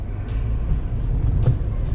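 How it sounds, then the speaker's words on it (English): Steady car traffic rumbling by on a busy New York City street, with aggressive drivers, delivery bikes and cyclists nearby; a continuous low engine drone with a slightly louder vehicle swelling past midway, no talk. "the cars are driving super aggressive"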